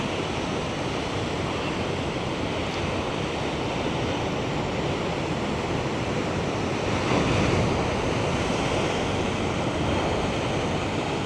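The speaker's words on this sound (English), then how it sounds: "Oh, we got some nice waves coming in here as well." Ocean surf rolls in continuously, a loud broad wash of breaking waves with wind, swelling slightly partway through, with no voices.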